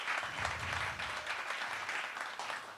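An audience at a PubTalk gathering in Central Oregon claps in a short, fairly soft round of applause, a steady wash of hands heard from a distance.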